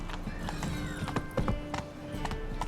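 Roach, the horse in The Witcher 3, gallops at a steady clip-clop rhythm of hoofbeats, fairly quiet and close, with a brief whinny and faint game ambience underneath.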